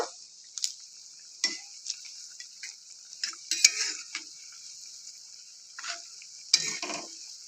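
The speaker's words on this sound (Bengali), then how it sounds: "একদিকটা ভাজা হয়ে গেছে আর একদিকটা একটু উল্টে নেব" Rasmalai balls of milk and semolina frying in hot oil give a steady high sizzle, with several sharp clinks and scrapes of a spatula turning them in the pan; no one speaks.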